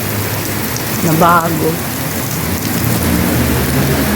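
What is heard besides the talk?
heavy rain with thunder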